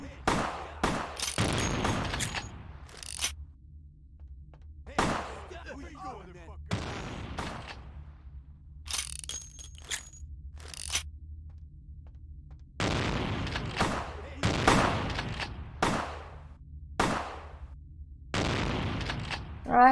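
Shotgun blasts in the vampire role-playing game Vampire: The Masquerade – Bloodlines, loud booming shots fired in irregular clusters with echoing tails, alternating with quieter stretches of game ambience.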